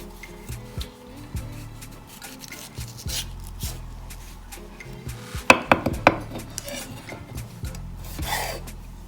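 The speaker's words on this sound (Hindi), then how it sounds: "ये टमाटर है, इसको आपने अंदर से निकालना है" A knife scrapes and taps against a tomato and board while hollowing out its insides for a tuna salad, with a quick burst of sharp scraping clicks in the middle and softer rubbing around it.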